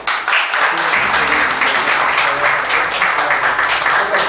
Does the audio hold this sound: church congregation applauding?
yes